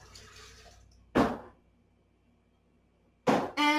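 Two cups of water for homemade date syrup are poured in two short, splashy bursts separated by a quiet pause, close by, with no voices.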